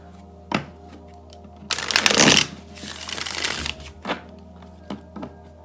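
A single quick riffle shuffle of a Rider-Waite tarot deck, a loud crisp burst of fluttering cards lasting under a second, with a few light taps and handling sounds around it.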